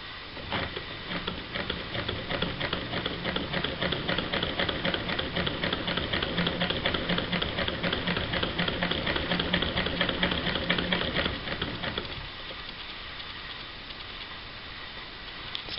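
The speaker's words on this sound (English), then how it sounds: "And now to start sewing, and let's hope for a good result." A 1916 Singer 99K vintage sewing machine fitted with an underbraider stitches steadily and close by, a fast even mechanical patter running for about twelve seconds before stopping, followed by quieter room sound.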